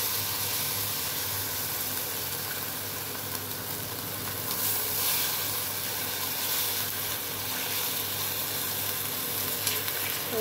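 An egg mixture for a cheese and chhana omelette fries in hot oil with a dense, even sizzle and hiss that holds steady throughout, close and unbroken by speech.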